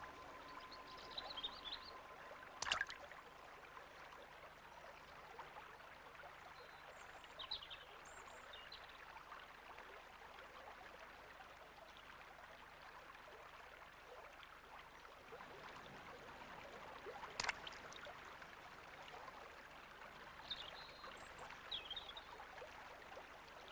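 Shallow summer stream trickling softly and steadily, faint and distant, with occasional small bird chirps and a couple of brief clicks over the gentle flow.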